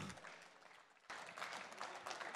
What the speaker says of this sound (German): Einen großen Applaus bitte für das Team Carico!